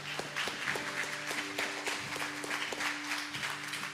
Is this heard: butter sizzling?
no